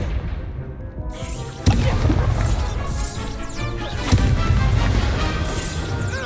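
Incendio fire spell cast in the Hogwarts Legacy video game, heard as sharp whooshing magical bursts with two loud impact-like booms amid busy combat effects.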